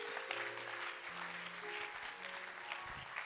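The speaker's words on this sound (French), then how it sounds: "quelqu'un peut acclamer Jésus" A church congregation claps and cheers in praise of Jesus during a worship service. The applause is a steady, moderately loud wash that holds for about three seconds and swells briefly at the very end.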